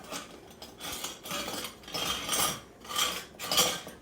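Metal utensils clink and rattle in bursts while someone rummages through them in a kitchen looking for a small scoop, close and moderately loud with short pauses between handfuls.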